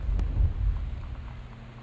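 A deep thunder rumble from a lightning storm in the video game Gone Home, heavy and low, rolling over steady rain and wind and fading toward the end.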